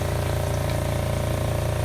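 Water drains from a spinning off-grid spin dryer into an RV gray tank, a steady, close, gushing flow over a low pulsing motor hum, continuous for the whole short stretch without talk.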